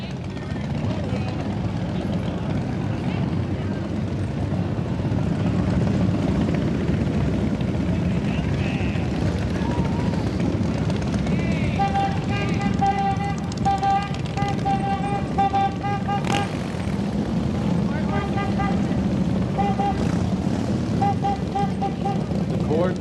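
A motorcycle drill team rides in a downtown holiday parade, giving a steady, loud, rumbling engine drone that continues throughout while a voice talks over it.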